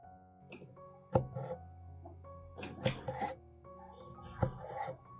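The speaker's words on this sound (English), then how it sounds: "Chopping the tomatoes helps them soften quickly" A knife chops tomatoes on a board in a few sharp, irregular knocks, quiet and close, with faint kitchen background between strikes.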